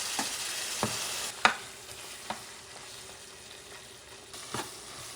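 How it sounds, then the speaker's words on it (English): Puerto Rican-style ground meat (carne molida) fries in a pan with a steady, close crackling sizzle, broken by a few sharp scrapes and taps of a spoon. "So I'm going to let it cook, okay? You want that meat cooked. So I'm going to cook it for a few minutes."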